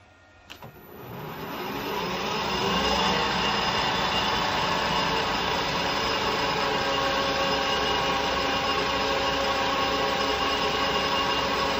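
A metal lathe spins up to about 1100 RPM for centre drilling metal and settles into a steady, even whirring hum with a faint high whine, continuing without pause.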